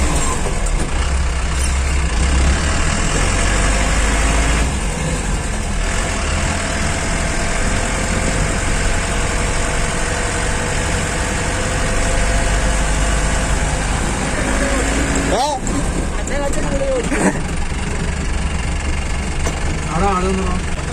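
A Mahindra Nissan lorry engine idles off road with a steady low rumble that runs throughout, with brief hissing bursts near the end and people talking over it.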